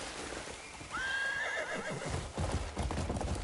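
A horse in the video game Crimson Desert gives one clear whinny, followed by a few hoof clops, moderately quiet against a steady ambient bed.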